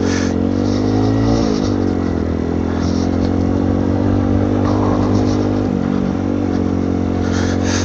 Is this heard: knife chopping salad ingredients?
no